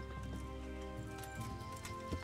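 Horse hooves clip-clop steadily in the video game Kingdom Come: Deliverance, close and moderately loud over a bed of game music and ambience, with no talking.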